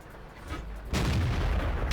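A heavy tank gun firing in the World of Tanks game from a Pz. Sfl. IVc tank destroyer, one loud booming shot that cuts in abruptly and rolls on with a sustained rumble.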